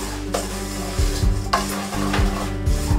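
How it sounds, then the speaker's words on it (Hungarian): Breadcrumbs toast golden in hot fat in a pan for Hungarian plum-jam derelye, with a soft steady sizzle and a few scraping stirs of a utensil against the pan, close up and without speech. "Forró zsiradékon aranybarnára pirítjuk a zsemlemorzsát."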